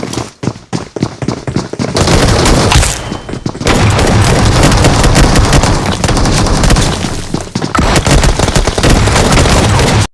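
Gunfire in the BGMI (PUBG) battle royale game, scattered sharp shots at first, then loud dense bursts of rapid fire with a short pause in between, sounding close and forceful.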